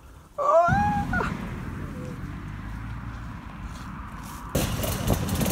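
A Kawasaki ER5 motorcycle rides past on a green lane, its engine a steady broadband rumble that starts abruptly after a brief bird chirp and swells louder near the end.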